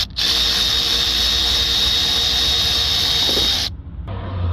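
A power tool runs steadily while undoing 8mm bolts on a Range Rover 3.0 diesel, a loud, close whine lasting several seconds before cutting off abruptly, with no talking.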